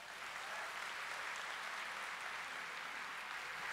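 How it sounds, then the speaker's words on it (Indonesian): An audience applauds steadily at a vocational education event in Indonesia, a faint, even wash of many hands clapping together for a few seconds without a break. "Tepuk tangan semuanya ya."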